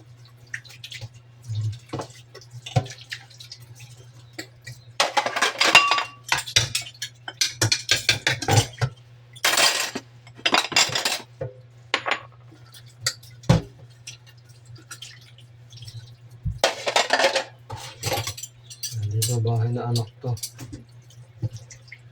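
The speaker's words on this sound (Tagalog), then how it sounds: "Hinuhugasan ko muna yung mga baso ng pinakainan na kanina" Drinking glasses being washed by hand under running water, with dripping, splashing and occasional clinks of glass, heard close up while a person talks intermittently over it.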